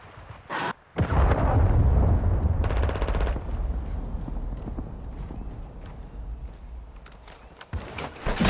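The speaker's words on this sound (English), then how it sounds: "Friendly cruise missile approaching target." A cruise missile strike in Call of Duty: Modern Warfare II lands as a heavy, booming explosion followed by a long rumbling roar, with bursts of gunfire and sharp cracks around it, loud and close.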